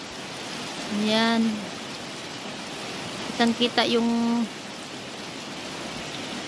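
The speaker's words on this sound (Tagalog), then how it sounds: "Umuulan ngayon dito sa amin guys." Rain on a cool afternoon makes a steady, even hiss throughout, while a voice speaks twice over it.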